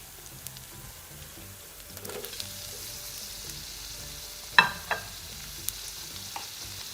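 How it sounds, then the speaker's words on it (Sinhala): Oil sizzles steadily in a pan while potatoes and sprats fry, a constant gentle crackle with a few sharp clinks of stirring scattered through, no talk. "මේ ටික ටිකක් තෙලෙන් මලව ගන්න"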